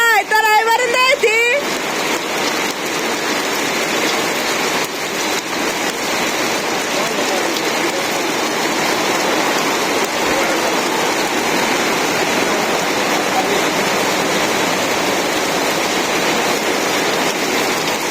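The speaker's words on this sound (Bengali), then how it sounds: "প্রতিদিনই বৃষ্টি শুরু হয়েছে, একটা দিনও ভালো হবে না।" Heavy rain pours down over a Bangladeshi village in a dense, constant hiss that fills the whole stretch, with a brief voice and some clatter at the very start.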